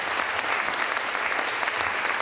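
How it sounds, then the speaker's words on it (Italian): An audience at a racing team presentation breaks into loud, dense applause, a steady close-up roar of many hands clapping at even intensity throughout. "un applauso per chi ci ha accolto"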